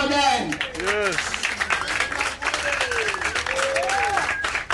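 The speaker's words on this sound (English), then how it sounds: "And team, shall we clap for them?" Audience applause at a community welcome gathering in Sierra Leone, steady clapping from a crowd throughout while voices shout and talk over it.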